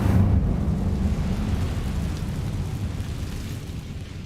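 Incendio fire spell cast in Hogwarts Legacy, a loud low rumbling whoosh that bursts at once and slowly fades into a sustained roar.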